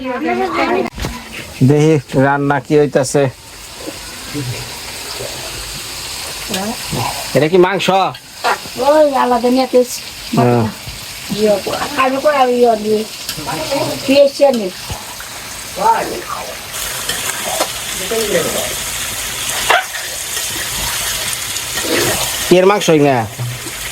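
Fish or potatoes frying in a pan at home, a steady sizzle with stirring running under near, continuous conversation in Bengali throughout.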